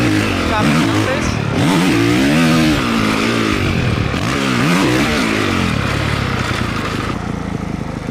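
Motocross motorcycle engine revving and rising in pitch through a small scrub jump, loud and close, with the tone sweeping up and down over several seconds before settling into a steadier drone.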